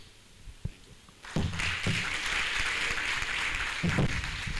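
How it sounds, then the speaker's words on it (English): An audience at a university physiotherapy department's e-library inauguration ceremony breaks into a round of applause that starts abruptly and holds at a moderate, even level, heard from a slight distance. "Can you please give her a round of applause?"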